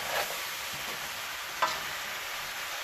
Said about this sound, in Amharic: ይሄ መጥበስ ብቻ ነው